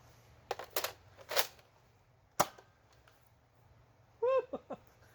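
A foam dart blaster fires a single shot of stock darts, giving sharp snappy pops and clicks set apart by short pauses, close and fairly quiet, with a brief excited vocal burst near the end.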